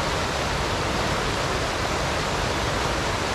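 Steady broadband rush of river water flowing through Devil's Glen Forest in County Wicklow, Ireland, a continuous even wash heard up close with no breaks and no voices.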